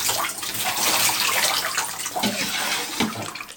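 Bathwater pours from a tap into a tub, making a loud, steady rushing splash close by, with a couple of brief sloshing bumps near the end and no talking.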